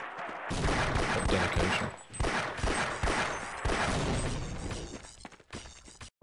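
Rapid gunfire in the video game Half-Life: Opposing Force, a loud sustained volley of shots with impacts and shattering bursts, briefly broken by pauses, while a voice speaks a single word.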